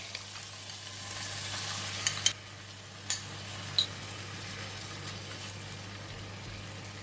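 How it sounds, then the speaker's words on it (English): Egg frying in a little oil at the side of a pan beside fried rice with ham: a steady soft sizzle runs throughout, broken by a few sharp clinks and pops near the middle, with no talk. "I'm going to add in a little bit of oil here at the side of the pan and put in the egg."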